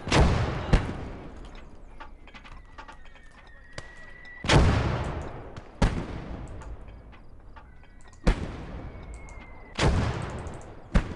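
Mortar rounds land in the World War II tactical game Close Combat, Russian side: several heavy booming impacts at irregular intervals, each with a long decaying rumble, over a low battlefield background with faint scattered clicks.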